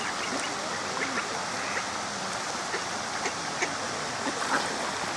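Ducks quack in scattered short calls near water, fairly faint against a steady rushing stream or flowing-water wash that fills the background throughout.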